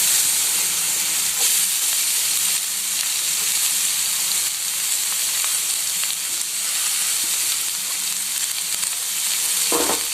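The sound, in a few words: cabbage frying in pan with carrot and beans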